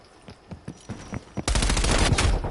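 Gunfire rings out in the shooter game Call of Duty Black Ops Cold War: several separate shots first, then a sustained, loud burst of rapid automatic fire.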